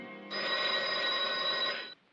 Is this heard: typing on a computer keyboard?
no